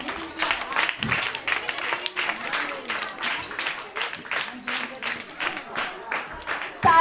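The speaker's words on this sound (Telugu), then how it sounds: "క్లాప్స్ కొట్టాలండి." An audience claps through a prize-giving ceremony at a children's Vacation Bible School event. The steady, moderately loud patter runs throughout while a voice speaks over it.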